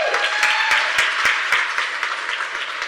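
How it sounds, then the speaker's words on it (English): Awards-event audience applause at the 2022 EMSDC Choice Awards, a loud burst of clapping with distinct sharp nearby hand claps standing out, gradually easing toward the end. "So let's have a round of applause for that."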